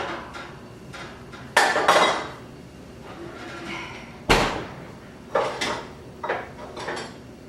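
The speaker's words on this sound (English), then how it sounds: "I'll take my biscuits out of the oven." A tray of biscuits taken out of a home oven, with sharp metallic clanks and thuds of the pan and oven door, several loud knocks spaced out between softer rattles and shuffling.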